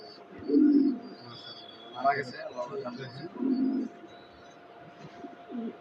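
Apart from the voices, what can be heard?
pigeons cooing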